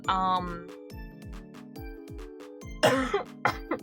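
A few harsh coughs break out near the end, close and loud, over a repeating electronic tone pattern; a brief rough vocal burst opens.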